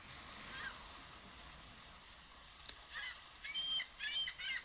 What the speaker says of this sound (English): Birds going nuts.